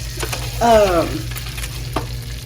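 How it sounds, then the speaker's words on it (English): Two eggs fry in a very hot pan greased with cooking spray, giving a close, steady sizzle with a short squeaky tone near the start. "I'm gonna fry up a couple of eggs, and this hot pan is really hot"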